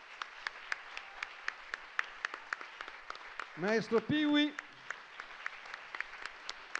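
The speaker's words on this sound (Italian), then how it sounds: "che applaudiamo" An audience at a theatrical storytelling event at Internet Festival keeps up sparse, evenly spaced claps throughout, while someone speaks briefly over them in the middle.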